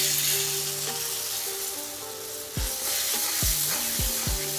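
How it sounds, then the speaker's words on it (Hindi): Milk is poured into roasted gram flour in a hot pan, where a loud, steady sizzle keeps hissing and bubbling, briefly changing character partway through, close up with no voices. "अब हम इसमें डाल देंगे दूध।"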